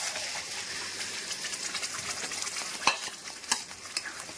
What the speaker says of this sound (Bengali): দিয়ে ভালো করে এটাকে নাড়তে নাড়তে থাকবো মিনিট পাঁচেকের জন্য